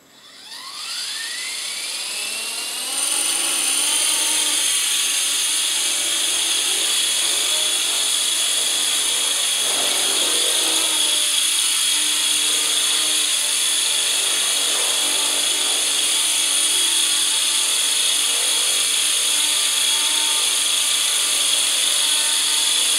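An Esky HBFP v2 RC helicopter spins up, then holds a loud, steady, high-pitched electric motor and rotor whine at full throttle while hovering, close by and continuous with no talking.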